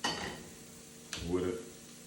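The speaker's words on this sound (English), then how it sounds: "get my skillet hot, and I'm gonna get my bread toasted" Bread toasting in a hot skillet with butter, a faint sizzle with scraping and stirring clatter as the pieces are moved around the pan.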